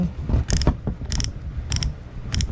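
Torque adjustment collar on a cordless drill being turned through its settings, with four separate bursts of sharp ratcheting clicks at close range.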